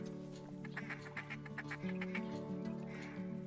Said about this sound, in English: Got 3 ducks coming in.